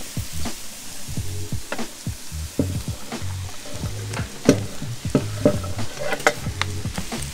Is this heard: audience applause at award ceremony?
no